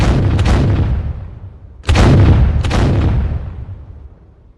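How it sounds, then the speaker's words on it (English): Cannons fire in two or three heavy, booming blasts spaced a second or so apart, each rolling out into a long fading rumble, loud and alone without voices. "Fire the cannons."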